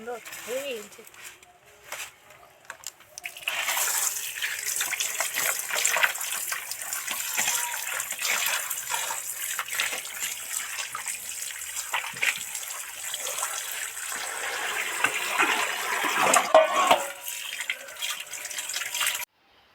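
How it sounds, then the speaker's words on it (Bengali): Tap water runs steadily while chicken meat is washed in a kitchen sink, a continuous splashing gush that rises after a quieter start and stays fairly loud, with someone speaking at the beginning. "মাংস তো ধোয়া হয়ে গেল জল ঝরতে দিয়েছি"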